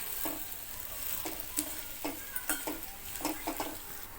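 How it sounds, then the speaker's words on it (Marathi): Vermicelli is roasted in a little oil over low heat for kheer. A spatula scrapes and taps the pan in a loose rhythm of repeated strokes over a soft, continuous sizzle. "या शेवेला आपण 3 मिनिटं स्लो गॅसवरच भाजून घेणार आहोत"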